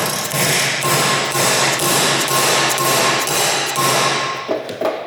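Rapid, loud metallic hammer blows strike a steel template clamped in a bench vise during a Toyota Corolla AE86 build, an even rhythm of whacks repeating close by for several seconds.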